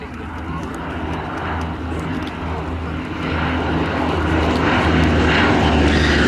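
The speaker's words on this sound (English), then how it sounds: "Here was one of the prime RAF frontline aircraft when war was declared against Germany in" A Bristol Blenheim, an RAF twin-engine wartime bomber, flies at the Duxford summer air show. Its piston engines give a loud, continuous droning roar that swells toward the end, with a commentator speaking over it.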